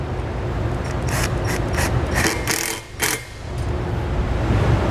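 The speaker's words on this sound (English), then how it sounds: "we'll use a 5/16 socket to tighten it up" A 5/16 socket ratchet tightening a fastener during a Curt wiring harness install on a 2012 Dodge Grand Caravan, several rapid clicking ratchet strokes over steady background noise, close, no speech.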